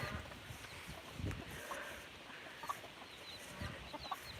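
Chickens cluck softly and continuously in a farm enclosure in rural South Dakota, a few sharper clucks standing out over a steady background of outdoor noise.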